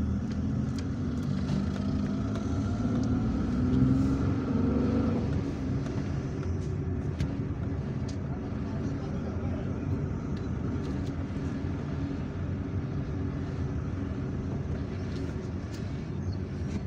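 A car driving through the streets of Algiers gives a steady, close rumble of engine and road noise that continues unbroken throughout, with no talk.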